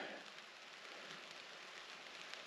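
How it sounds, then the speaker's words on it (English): Light rain pattering steadily on a hammock camp during solo wild camping in the U.K., a soft, even hiss with no voices. "Just started raining a bit now."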